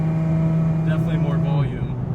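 Supercharged Lexus IS 350 fitted with an XFORCE Varex exhaust, valves closed, holding a steady low engine drone near the mic that dips slightly toward the end, with a voice speaking over it.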